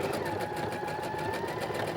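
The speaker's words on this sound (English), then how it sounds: "we'll just go ahead and attach this ruffle with our zigzag stitch. We can go back up to fast speed for this." A sewing machine runs at fast speed, zigzag stitching a ruffle onto a little girl's party dress, giving a rapid, even mechanical chatter of needle strokes that stays close and continuous.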